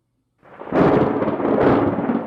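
A thunderstorm rumbles and crashes in a television commercial, starting from near silence, then rolling loudly and continuously with a second swell of thunder midway.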